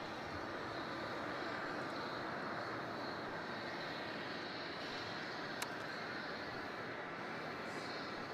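Four-engine airliner landing at Melbourne Airport at night, a broad steady roar of jet engines heard at a distance and holding constant throughout.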